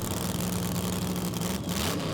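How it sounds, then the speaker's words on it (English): Pro Alcohol drag racing cars at Willowbank Raceway building revs at the start line, a loud, dense engine roar that fills the whole clip with a steady low drone and rising pitch, close and continuous. "You'll hear these cars build the revs big time."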